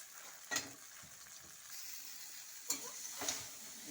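Chowmein noodles frying in a pan, a faint, steady sizzle broken by a few sharp spoon-stirring clinks and scrapes.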